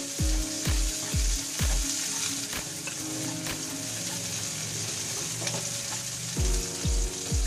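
Garlic and onion sizzle steadily in hot oil in a deep pan while Filipino pork humba is cooked, a continuous bright frying hiss with several sharp clinks of a utensil against the pan at the start and end.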